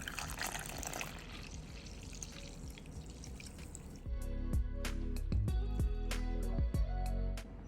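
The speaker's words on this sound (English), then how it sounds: "We'll add water." Water pours in a steady splashing stream into flour batter at first, then gives way to a few close, scattered drips and trickles.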